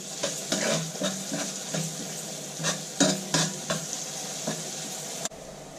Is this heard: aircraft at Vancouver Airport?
no